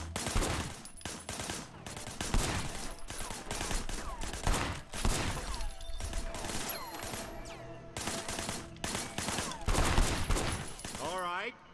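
Loud, dense bursts of automatic gunfire in a shooter video game, rapid rattling volleys with brief gaps, ending in a warbling electronic tone.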